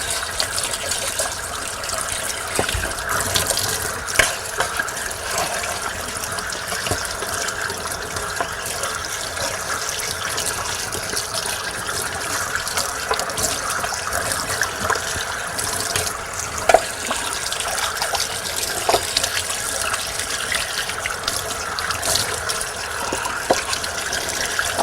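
Tap water runs steadily into a kitchen sink while raw beef skirt is rinsed under it, a continuous gushing splash with a few brief louder knocks and no talking.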